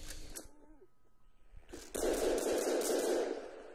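A gun in the Garry's Mod video game fires a burst of loud, rapid shots that runs for close to two seconds, after a quieter stretch of game sounds and a short tone.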